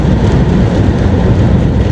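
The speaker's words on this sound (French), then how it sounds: "Et en même temps, il y a la pluie." Strong gusty wind with falling rain batters the outdoors, making a loud, constant roaring rush with no talking.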